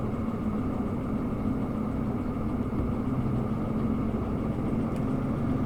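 A locomotive engine in the Derail Valley train simulator holds a steady low, even rumble as it begins to pull forward, droning continuously with no change in level and no voices.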